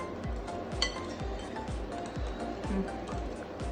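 Ingredients for Mexican chicken tacos being stirred in a bowl, a rapid run of light clinks and scrapes against the bowl repeating roughly every quarter second, close and steady with no talking.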